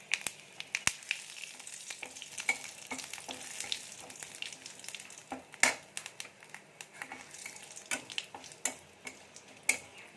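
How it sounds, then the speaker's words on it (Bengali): Bengali five-spice seeds hit the hot oil left from frying singi fish, crackling and popping in sharp, irregular bursts over a low sizzle, close and fairly quiet, with no talking. "এই মাছ ভেজে নেওয়া তেলের মধ্যে আমি 5 ফোড়ন দিয়ে দেব"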